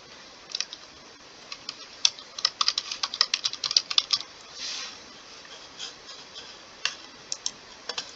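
Quiet, irregular typing on a computer keyboard, scattered clicks and short flurries of keystrokes with brief pauses, close and clear against a near-silent background.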